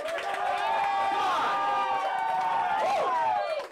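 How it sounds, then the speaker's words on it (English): A live music venue audience in Franklin, Tennessee cheers and whoops for the host Nick, a steady wash of crowd voices and shouts, loud and close, sustained for several seconds. "Can we get an applause for Nick, please?"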